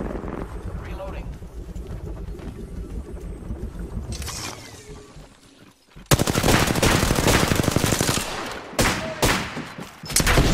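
Rapid automatic gunfire in Apex Legends, a dense sustained burst early on, then a louder, sharper run of shots near the end, with wind-like noise and a player's voice over the action.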